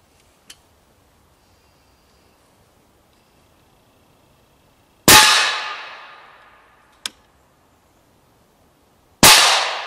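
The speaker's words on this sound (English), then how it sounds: "let's at least get a few rounds downrange and take a look at the impact that it has uh, on the Premier Body Armor plates" Rounds fired at Premier Body Armor plates sound as two loud, sharp cracks that ring and decay over about a second, each echoing, with smaller distant pops in between.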